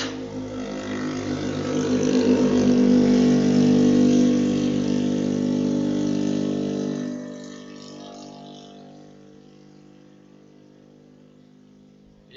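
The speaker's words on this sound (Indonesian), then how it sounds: "kalau ada motor lewat, itu ya Allah suaranya kok kampanye" A motorbike passes a hotel beside an uphill road in Kaliurang, its engine swelling to a loud, close drone over a few seconds and then fading away into quiet.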